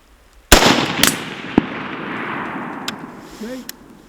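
Rifle fired at an outdoor shooting range through a scope setup, three sharp loud cracks about half a second apart, each followed by a long fading echo rolling off across open ground.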